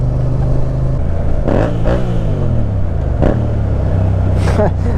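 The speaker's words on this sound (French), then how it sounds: "allez j'accélère" A Yamaha MT motorcycle accelerates on the road, its engine note sweeping up in pitch through quick gear pulls over a steady engine hum and wind rush, heard close from the rider's position.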